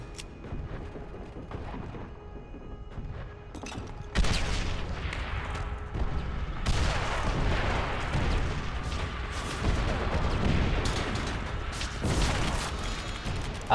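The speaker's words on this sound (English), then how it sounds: "Oh, the artillery is on me and I didn't get a kill." Artillery fire in the World War II shooter game Call of Duty: WWII, heavy repeated blasts and rumbling bursts with mechanical rattles, growing louder and denser after the first few seconds.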